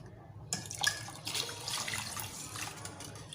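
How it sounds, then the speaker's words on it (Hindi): About a glass of water poured into a yogurt mixture for dahi baray, heard as a close, continuous splashing pour lasting a few seconds with no talking. "अब इसमें जो है अपने हिसाब से पानी ऐड कीजिएगा"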